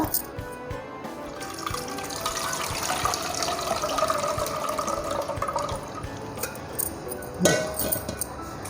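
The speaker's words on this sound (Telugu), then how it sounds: "మీరు బ్యాళ్ళు, ఉల్లిగడ్డలు వాష్ చేసుకోవాలి" Lentils and onions rinsed with water in a kitchen for a palav dalcha, a steady run of sloshing and splashing water with scattered drips and clinks, fairly close and continuous, with one sharper splash near the end.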